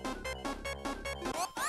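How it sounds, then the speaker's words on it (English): Drowning countdown jingle from Sonic the Hedgehog's Labyrinth Zone, a short burst of quick pulsing synth notes that ends in rising tones, played loud with no talking. "It's the noise of drowning."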